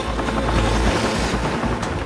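A rescue helicopter departs, its rotor and turbine producing a loud, close, continuous roar that fills the brief moment with no voices.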